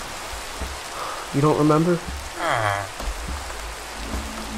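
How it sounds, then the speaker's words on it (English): Heavy rain falls steadily through a video game scene, a constant hiss beneath people talking in brief bursts. "it's raining quite heavily, though"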